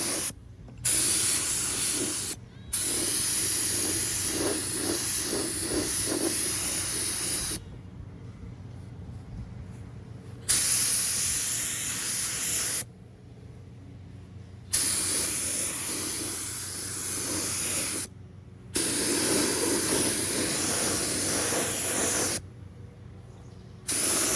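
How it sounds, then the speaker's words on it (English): Spray primer is applied in light coats to repair areas on a Harley, heard as a series of close, loud hissing bursts a few seconds long, separated by short pauses, with no talking. "light coats, a primer over all the areas that I've feathered out."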